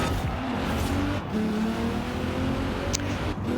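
Race car engine in a racing sim video game accelerating into a corner, a loud steady drone with shifting tone and faint tyre noise, continuous with no speech.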